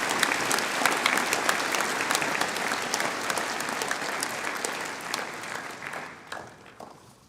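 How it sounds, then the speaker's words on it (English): Warm audience applause at a school Year 12–13 prizegiving for students receiving awards, a full crowd clapping steadily, then tapering off toward the end. "Congratulations, and please applaud these students."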